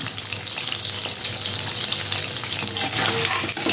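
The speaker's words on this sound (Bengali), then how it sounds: "এইভাবে আপনারা কিন্তু ভেজে নেবেন" Amudi fish fries in hot oil with a loud, constant, close sizzle that holds steady throughout, with no one talking.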